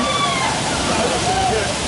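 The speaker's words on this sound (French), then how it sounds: "Ils peuvent régler la hauteur d'eau hein, pour les éclaboussures." Splashing water at a Phantasialand amusement park water ride during the Wintertraum Christmas event pours in a steady loud wash with no pauses, under nearby talk.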